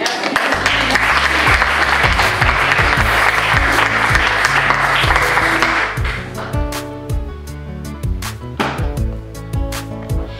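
A church congregation applauds in dense, steady clapping for several seconds, then gives way to rhythmic music with plucked and percussive notes.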